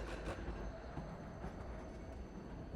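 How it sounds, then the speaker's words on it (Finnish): Trams rattle through a busy Helsinki city street, a continuous loud metallic rumble and clatter of wheels on rails, steady throughout with no voices. "Raitiovaunut kolisevat."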